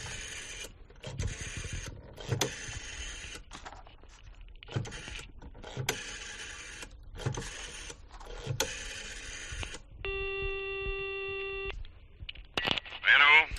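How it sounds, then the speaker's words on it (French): An old telephone is dialed with a series of mechanical clicks and whirs, followed by a steady electronic tone and a short burst of ringing, with some quiet speech in the room. "Vous permettez que je téléphone, Valdez?"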